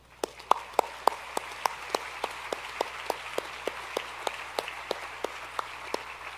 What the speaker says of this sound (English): So let's give you another round of applause.